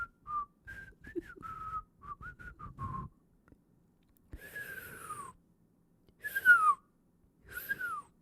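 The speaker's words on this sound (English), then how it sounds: "I can whistle when I breathe in." A person whistles on the in-breath in three breathy, wavering bursts, close and fairly loud, after a stretch of ordinary lip whistling with breathy noise underneath.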